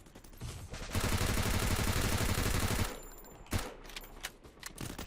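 Rapid automatic gunfire in the Free Fire Max video game, a dense, loud burst lasting about two seconds, followed by a few sharper isolated shots and impacts.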